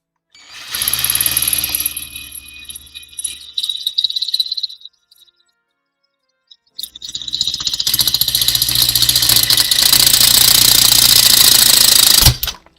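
A power drill bores hard into material with a bent bit, running in two loud bursts of steady high whine separated by a few seconds of silence, the second burst longer and cutting off abruptly.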